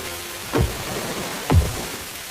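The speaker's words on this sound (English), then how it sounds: "Yes, it's pouring." Heavy rain pours in a steady, even hiss, with two soft thuds standing out above the wash.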